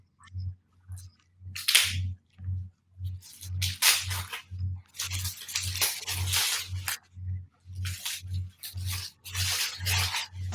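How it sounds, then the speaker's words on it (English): Paper wrapping being torn and crinkled off a newly launched book at a launch event, close and busy in irregular bursts, over a steady low rhythmic hum pulsing throughout. "do you want to unwrap the book and show it to everyone?"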